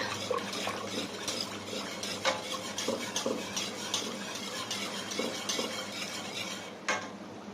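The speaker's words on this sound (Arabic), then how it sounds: "اقلب كويس جدا" A spoon stirs a béchamel and macaroni mixture with salt in a bowl, making a steady run of wet scraping and clinking against the dish, close and moderately quiet, with no talk.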